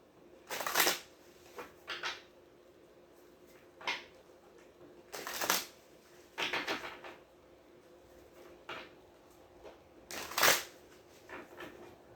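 Tarot cards are shuffled by hand in a quiet room, a series of short papery riffles and slaps in irregular bursts, close and fairly soft, with silence between.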